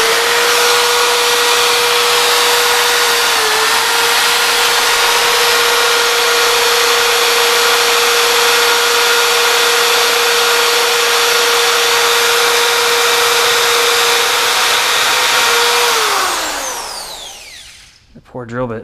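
A power drill bores steadily into metal on a Porsche 944 during an LS swap, a loud sustained whine holding a near-constant pitch before spinning down at the end.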